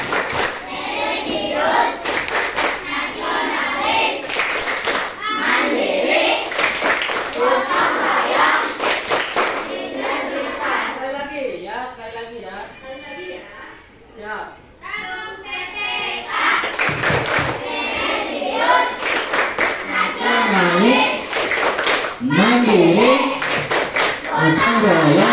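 Elementary school students perform the PPK clapping routine in a classroom, sharp rhythmic bursts of hand claps alternating with children chanting the accompanying words in unison, fairly close and lively.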